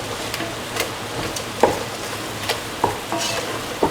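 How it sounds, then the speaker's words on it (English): Egg cooking in a frying pan while being scrambled and stirred, a steady close sizzle with a few sharp spatula scrapes and taps against the pan. "scramble the egg into the mixture. Thoroughly scramble for 1 to 2 minutes."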